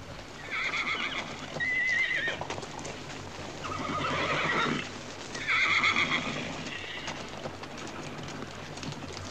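Two loud whinnies from a black gelding ring out, the second after a pause, with steady hoof clopping and a busy outdoor background throughout.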